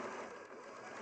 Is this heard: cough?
no